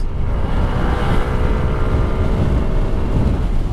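A Kymco Dink R 150 scooter is ridden with the throttle opened. A loud, steady engine drone continues throughout, heavily mixed with rushing wind noise on the microphone. No one speaks.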